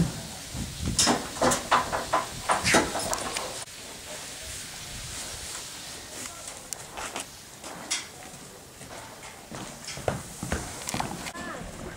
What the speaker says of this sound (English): We're about to put Winnie on this truck with a couple other horses